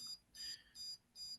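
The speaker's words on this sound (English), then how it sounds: "I'm going to hold the button down and it's going to start beeping." A Dolphin Neurostim handheld device gives four evenly spaced, high electronic beeps in a row, faint and isolated against a quiet background.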